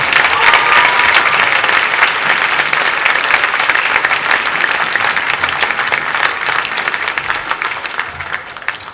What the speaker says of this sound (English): let's give our administration a big round of applause